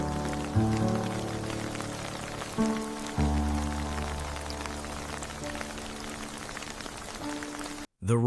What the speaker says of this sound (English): The rain came down in sheets, hammering against the roof of the house on Cedar Hollow Lane